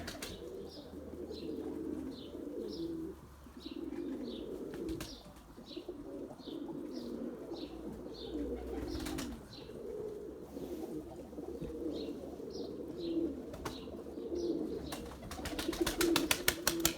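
Pigeons in a loft coo steadily and continuously, with soft overlapping calls layered over a low background hum throughout.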